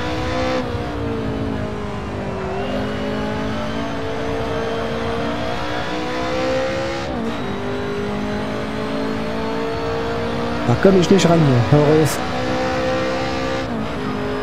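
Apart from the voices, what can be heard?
car engine revving in racing video game Assetto Corsa Evoluzione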